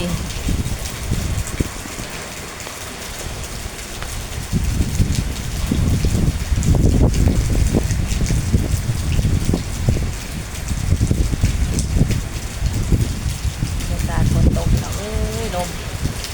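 Steady heavy rain hisses and drums nearby, gusting louder in waves, with a faint rising tone briefly near the end.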